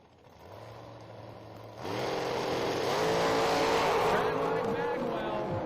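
A Top Dragster car at an IHRA Pro Am drag race roars off the line after a quieter idle, its engine note surging loudly and holding as it races away down the strip.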